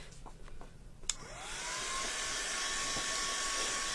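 A hair dryer switches on after a few soft clicks and settles into a steady close whooshing roar with a rising whine while drying craft mould decorations.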